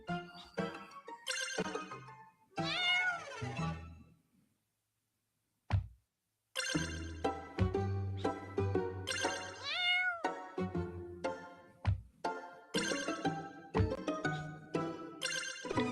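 Cats in the video game Boop meow repeatedly in bright, pitch-sliding calls, bursts clustered with short gaps and one long near-silent pause, alongside game sound effects.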